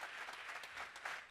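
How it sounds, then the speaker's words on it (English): An audience claps in a sustained burst of applause for a coffee supplier at a live in-person debate, a dense, steady wash of hand claps with no speech over it. "Big round of applause for the Mud House for putting out some coffee today."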